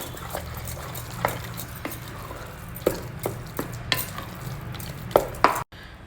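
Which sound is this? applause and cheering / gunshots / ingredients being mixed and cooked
ingredients being mixed and cooked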